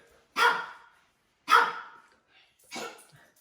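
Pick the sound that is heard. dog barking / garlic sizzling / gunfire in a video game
dog barking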